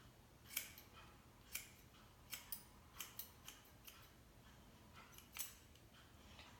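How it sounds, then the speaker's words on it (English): Scissors snip through hair at close range, about ten quiet, crisp cuts at an uneven pace with short pauses, and no talking. "I take the hair, I go all the way down and cut underneath the finger"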